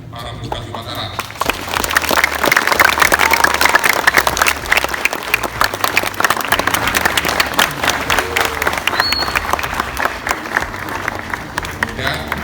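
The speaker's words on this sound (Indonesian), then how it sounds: "Tepuk tangan dulu buat para petugas upacara." Applause for the officers of a school flag ceremony at an Indonesian junior high, a large crowd clapping steadily and loudly for over ten seconds, with faint voices mixed in.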